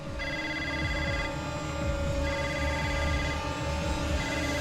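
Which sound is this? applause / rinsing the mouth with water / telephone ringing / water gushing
telephone ringing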